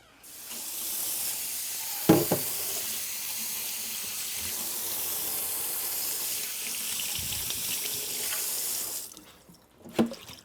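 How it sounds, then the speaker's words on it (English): Tap water runs in a steady hissing stream into a sink as basil is washed, interrupted by a couple of clunks and splashes as it is handled under the water, then stops. "First thing you want to do is wash your basil really good."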